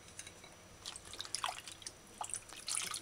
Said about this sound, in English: Now wash your vegetables properly.